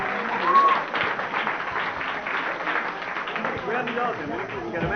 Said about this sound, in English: Once again, give a great big round of applause.